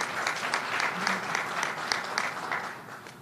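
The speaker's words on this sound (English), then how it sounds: "Give him a round of applause." Round of applause from an audience at a state governor's announcement of transportation grants for towns, steady clapping from a crowd filling the room for a few seconds with no speech.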